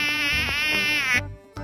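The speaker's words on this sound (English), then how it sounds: "Mosquito." A mosquito buzzes loudly and close with a continuous, bright, whining drone that wavers slightly in pitch before cutting off briefly and resuming.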